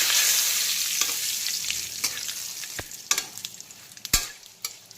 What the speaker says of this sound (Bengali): এখন মাছ ভাজার তেলেই দিয়ে দেব সবার প্রথমে শুকনো লঙ্কা, কালো জিরে আর তেজপাতা ফোড়ন।